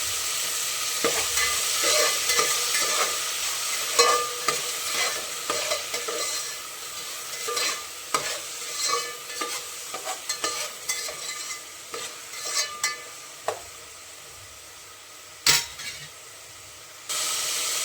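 Chicken fry with bagara rice and fresh mint being stirred in a sizzling pan, a constant crackling fry under repeated scraping, clinking spoon strokes against the metal, close and busy throughout.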